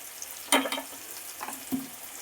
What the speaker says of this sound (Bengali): পেঁয়াজ ক্যাপসিকাম ভাজতে ভাজতে নুন দিয়ে দিলাম পরিমাণ মতো